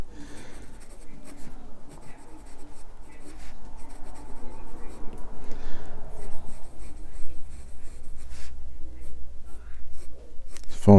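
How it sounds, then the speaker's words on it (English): A Sailor fountain pen with a fine Japanese nib writing on paper, soft close scratching strokes in short bursts with brief pauses, fairly quiet against low room noise. "look at how the pen writes"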